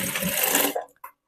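A sewing machine stitches blouse fabric in a single fast, whirring burst lasting under a second, followed by a brief clack and then silence.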